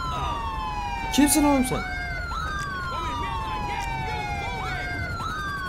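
A police siren in the video game GTA 5 wails in repeated rising and falling sweeps across the whole stretch, while someone shouts briefly over it near the start.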